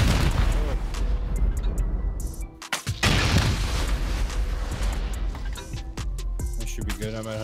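Rocket explosions boom in quick succession during a raid in the video game Rust, dense heavy blasts with a brief lull midway before more detonations crowd in.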